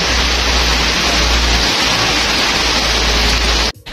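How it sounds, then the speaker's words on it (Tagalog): Heavy rain pours in a dense, loud, unbroken roar close by, then cuts off abruptly near the end. "Habang malakas ang ulan."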